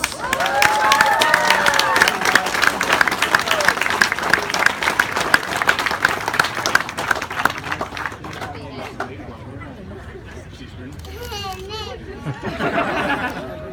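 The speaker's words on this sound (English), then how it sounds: "We're going to give it up for Circle Series champion, Fraser Hewitt." Audience applause and cheering at a cycling race's final-stage finish and presentation, honouring a series champion; a loud, steady crowd roar with clapping for about eight seconds, then fading into scattered chatter and a nearby voice.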